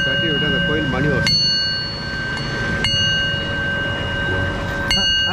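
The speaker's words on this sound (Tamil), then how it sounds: "நம்ம தட்டி விட அந்த கோயில் மணி வரும்." A handcrafted brass temple bell from a Kanchipuram handicraft shop is struck three times, each strike ringing out with a bright, sustained tone that lingers between hits, while people talk in the background.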